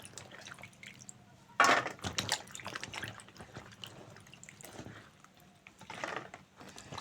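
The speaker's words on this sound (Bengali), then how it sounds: "জল দিয়ে ভালো করে শিম ধুয়ে নেব।" Cut flat beans are rinsed in a bowl under water, with close splashing, dripping and rustling of wet pods in irregular bursts.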